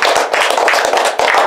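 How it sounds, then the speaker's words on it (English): A small tour group at the Mystery Spot in St. Ignace, Michigan claps in a brisk, close burst of scattered handclaps lasting just over a second. "Let's give a round of applause."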